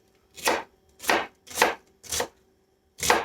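Red onion being chopped on a chopping board, five crisp knife strikes landing at a steady, slightly uneven rhythm, close and clear with no talk.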